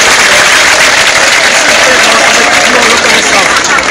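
A crowd at a school ceremony applauds an emeritus professor and doctor being honored, very loud continuous clapping mixed with some crowd murmur, close and sustained.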